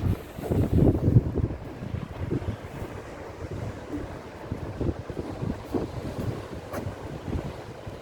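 Winter sea waves wash ashore at Wolpo beach in Pohang, heard as a continuous rumbling surf under gusty wind buffeting the microphone, fairly close and with no talking.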